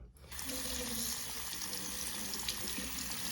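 Tap water gushes steadily over a Braun Series 5 electric shaver, starting abruptly and running as a close, constant splashing hiss with no pauses.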